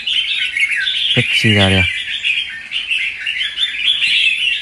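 Red-whiskered bulbul (chào mào) gives a brief, loud, clear whistled phrase of a few rapid descending notes at close range, over a steady hiss of background noise, with someone speaking nearby.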